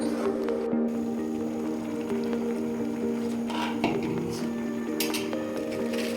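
A metal pot lid clinks shut over a simmering pot during cooking, with a few light clinks and clatters against a steady low kitchen hum.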